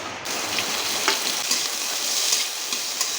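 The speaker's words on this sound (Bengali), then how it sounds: "পুরোপুরি ভাজবো না, হালকা করে ভাজবো, একদম কালার না আসার কোনো দরকার নেই।" Cashew nuts fry gently in a little white oil for egg korma, giving a dense, even sizzle close by with faint stirring ticks throughout.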